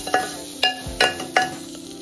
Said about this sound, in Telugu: వేయించిన ధనియా పొడి 2 స్పూన్లు, గరం మసాలా పొడి 1/4 స్పూను వేసి కలిపేసుకోవాలి